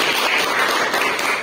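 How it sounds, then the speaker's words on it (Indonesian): Classroom applause for a student group, with steady loud clapping from many hands at close range and no talk. "Tepuk tangan untuk kelompok A."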